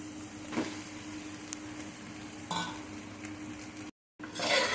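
Leftover rice mixed with spiced scrambled egg is stirred in a hot pan over high flame, giving a low, steady sizzle with a few soft scraping strokes of the spatula; no one speaks.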